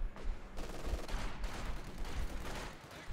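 MG42 machine gun fire in a video game battle, rapid bursts of gunfire at a moderate distance repeating steadily, with a few heavier thuds mixed in.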